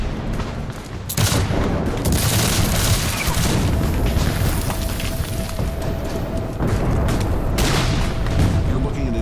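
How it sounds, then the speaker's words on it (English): Dense battle gunfire and booming artillery from a Civil War reenactment at Gettysburg, a continuous roar of rifle volleys and heavy blasts filling the whole stretch, loud and close with no pause. "Bullets and shells fly in all directions."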